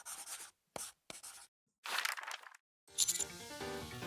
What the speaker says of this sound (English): Alright, so she's writing. That's what the scratching was.